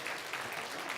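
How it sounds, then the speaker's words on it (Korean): A Korean church congregation claps together in a short, faint burst of steady applause from a room full of people. "우리 그래서 박수 한번 칩시다."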